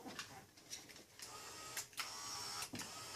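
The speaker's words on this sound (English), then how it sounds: "connect the motor back up. And I'll just run it, just see what it's doing." An unmounted 1995-1999 Nissan Maxima power window motor runs on the bench with its cable drum not turning, giving a faint, uneven whirring buzz with small clicks and surges.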